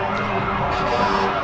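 Vital Care ambulance siren wails continuously at a Christmas parade, loud and close, as a steady tone with a faint background hum of the street crowd.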